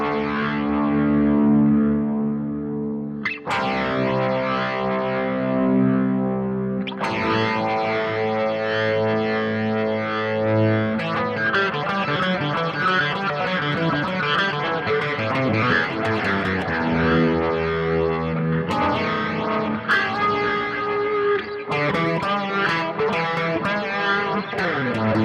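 Music run through a rotator effect on a podcast mixer, with distorted, chorus-like swirling and warbling tones. It plays loud and continuous, with abrupt shifts at a few points.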